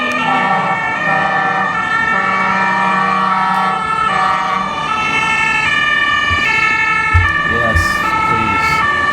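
Emergency vehicle siren wailing loudly and continuously with a steady rising and falling tone, heavy traffic and engine rumble beneath it and a brief horn burst near the end.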